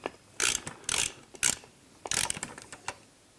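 A ratchet tightens pre-greased bolts on a bow-mount electric trolling motor, giving several close, sharp bursts of clicking pawl strokes separated by short pauses.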